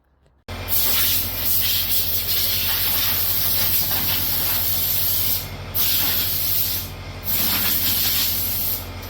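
A loud, steady spray of Lanoguard rust-proofing coating onto a Toyota Alphard hisses almost continuously, cutting off briefly twice before resuming, with a low mechanical hum running underneath.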